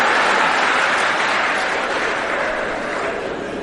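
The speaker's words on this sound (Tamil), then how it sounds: "ஏன் கைதட்டுகிறீர்கள்?" An audience claps through a speech by Justice Ramasubramanian, a dense, loud, steady wash of applause that fades slightly toward the end.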